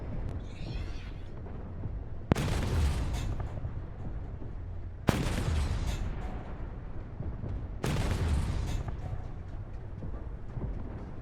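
Tank cannon fire in the Armored Warfare PvE game: three heavy, loud booms spaced a few seconds apart, each a sharp blast trailing into a long rumbling decay over a steady low engine drone.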